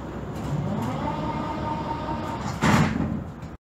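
Doors of an 81-71M metro train slide shut with a loud pneumatic hiss and thump near the end, preceded by steady rumbling carriage noise.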